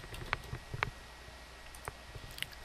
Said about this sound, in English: Click on settings,